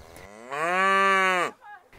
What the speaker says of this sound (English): these cows were supposed to go through that gate